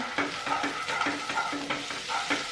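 A spatula scrapes and stirs through food frying with turmeric in a pan in a home kitchen, in a steady rhythm of repeated strokes over a continuous sizzle, close and fairly loud with no talking.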